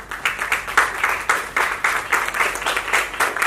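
At a Mumbai hospital gathering, a crowd claps for a kidney transplant team in a brisk, rhythmic burst of close, fairly loud applause, with no talk over it.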